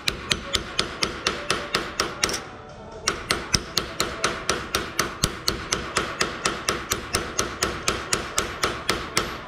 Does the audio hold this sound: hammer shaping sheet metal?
yes